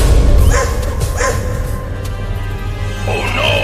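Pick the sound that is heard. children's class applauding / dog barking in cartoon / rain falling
dog barking in cartoon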